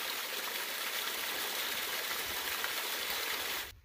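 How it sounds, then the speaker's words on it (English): A small waterfall pours steadily into a pond along a wooded hiking trail, a constant, moderately faint rushing hiss of water that cuts off abruptly at the end. "we got a pretty little pond with a little waterfall coming into it"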